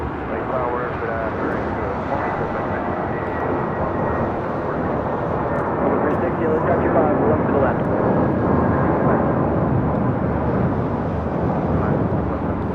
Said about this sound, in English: This is JetBlue Airways 1063 taking off to Puerto Vallarta on an A320